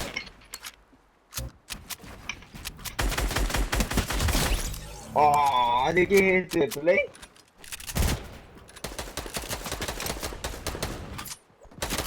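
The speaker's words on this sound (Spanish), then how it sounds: "Ven todos los tiros con esta media." Rapid bursts of gunfire from the video game Fortnite in a Zone Wars match crackle in dense volleys and single sharp shots, with a player speaking briefly in the middle.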